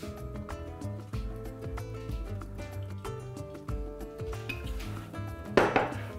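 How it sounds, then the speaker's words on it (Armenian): A frying pan for cooking mushrooms in olive oil is set down on the stove with a short, loud metallic clatter near the end, over steady background music. "Տապակը հայտնվում է կրակին, այսպես չկար և կա։"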